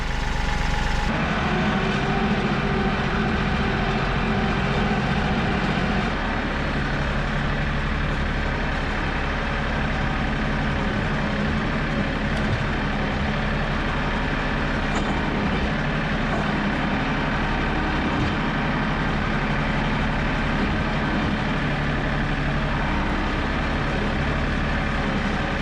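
A Kioti tractor engine idles close by with a steady, loud, continuous diesel rumble and no break in the throb for the whole stretch.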